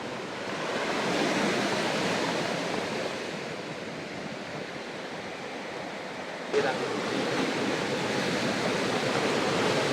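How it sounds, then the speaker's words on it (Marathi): Sea waves splashing and surging at Alava beach near Ratnagiri on the Konkan coast, a continuous loud roar of surf close by, with one sharper crash midway. "मस्त आत्ता लाटा उडतायत"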